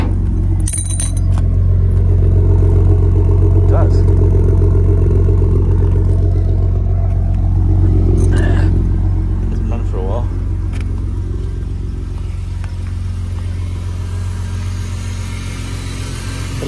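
A Ford BA Falcon ute engine runs at a steady idle close by, producing a constant low rumble throughout, with some brief clinks and light handling noises on top.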